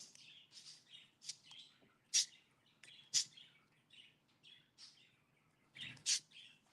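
Pet birds chirp inside a room: quiet, repeated tweets and a few sharper calls spread throughout, with no one talking.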